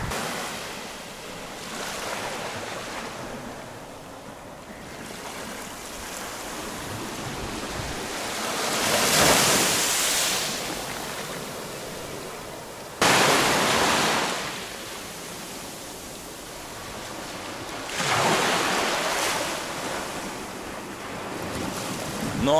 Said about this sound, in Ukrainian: А так виглядає максимальний прилив